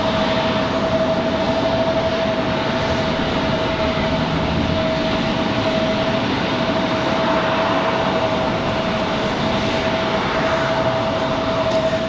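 A Breeze Airways airliner passes at Raleigh-Durham International Airport, a steady, loud broadband engine roar with a sustained whining tone held throughout, constant in level, with no voices.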